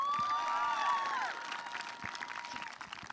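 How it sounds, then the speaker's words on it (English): Audience applause at a Stanford event, a dense wash of clapping that fades a little after the first second, with a brief tonal sound early on. "Let's give Hannah another round of applause."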